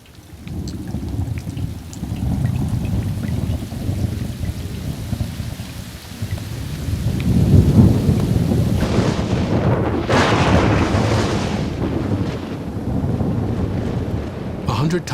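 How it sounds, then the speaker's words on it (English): Steady heavy rain pours down while deep rolling thunder rumbles in the middle, a loud crackling burst building and fading under the continuous downpour. "This happens every time a raindrop hits a puddle."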